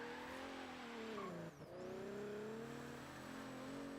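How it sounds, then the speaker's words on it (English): Alfa Romeo Milano Quadrifoglio Verde racing car in a video game: a steady, smooth engine drone that climbs in pitch, dips briefly with a quick shift, then holds at high revs, fairly faint. "I still can't believe that this little inline 6 sounds as good as it does."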